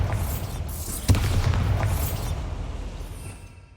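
Bombarda blasting spell exploding in a goblin mine in Hogwarts Legacy, a sudden deep boom with a sharp crack, followed by a rumbling tail that fades over a few seconds.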